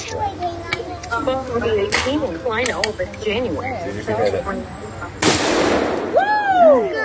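A gender reveal shot bursts with a sudden loud blast near the end, preceded by excited voices and children talking, then a high squealing cry right after the pop.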